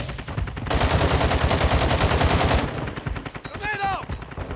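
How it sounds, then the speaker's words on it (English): Gunfire on Ashika Island in Call of Duty Warzone: scattered shots build into a dense, sustained automatic burst lasting about two seconds, loud and close, followed by sparser firing and a high electronic chirp. "There's shots coming from here as well"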